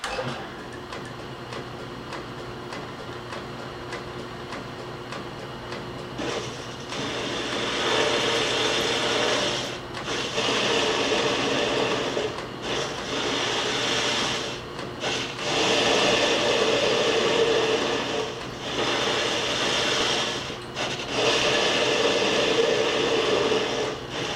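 A small metal lathe takes light cuts of ten to fifteen thousandths per pass on a bolt and spacer, giving a steady mechanical whir with a faint ticking rhythm that swells louder midway and runs continuously without talk.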